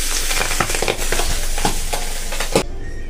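Pabda fish frying in oil in a wok, a dense steady sizzle with scattered crackles and stirring scrapes, close and fairly loud, cutting off abruptly near the end.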